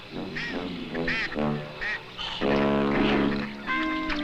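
Ducks quack repeatedly nearby, a series of nasal, honking calls in quick bursts with short pauses between.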